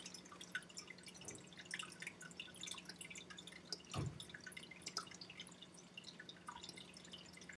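Water drips one slow drop at a time somewhere in the background of a quiet room, faint and irregular, with one louder drop part way through and a low steady hum underneath.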